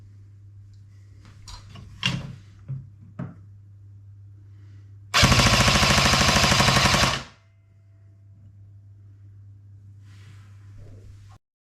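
An A&K M60 airsoft support gun fires a sustained full-auto burst of about two seconds through a chronograph, a loud rapid mechanical rattle, preceded by a few handling clicks over a steady low hum.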